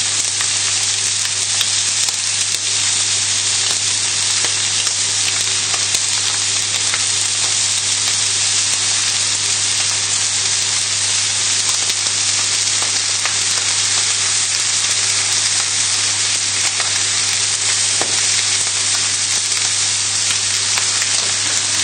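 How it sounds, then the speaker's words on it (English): Steak sears in a hot pan, giving a steady, loud, unbroken sizzle that holds level throughout with no talking. "you just leave it in the pan and it'll be creating a nice seal against the bottom of the pan, going nice and caramelised"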